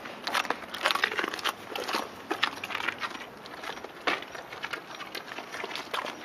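Two Dobermans chew green bell peppers, making close, crisp crunching and snapping bites in quick irregular bursts, with no talking.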